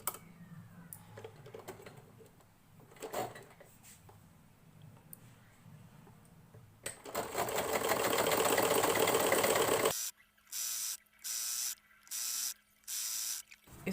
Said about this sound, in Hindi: लंबाई में इन पट्टियों को ऐसे रख कर पूरे में सिलाई मार लेंगे सारी पट्टियाँ